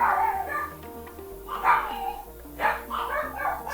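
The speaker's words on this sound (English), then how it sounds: "I could hear my dogs barking." Dogs barking at a distance in repeated short bursts, three or four clear barks in a row, heard faintly over a steady background hum.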